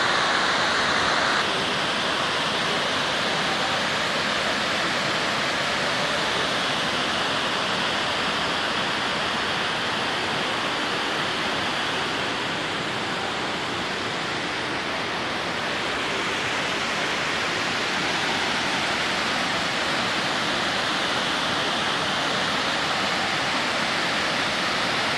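Water from the overflowing Pedra Lavrada dam pours into the Seridó River near Jardim do Seridó, a steady, loud, broadband roar of cascading water that stays continuous throughout with no talk.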